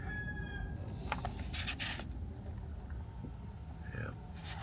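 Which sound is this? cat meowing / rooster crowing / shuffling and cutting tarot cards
rooster crowing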